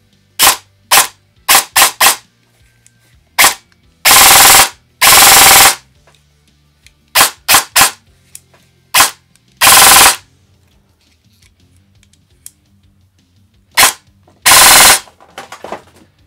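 Airsoft replica M4 rifle built on a MANCRAFT CNC receiver with a V2 gearbox, firing sharp single shots and short bursts, loud and close, separated by silent gaps with no talk.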